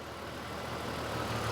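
A revived Jeep XJ engine runs at a steady idle, a dense continuous rumble that holds even and loud from start to finish, with no voices over it.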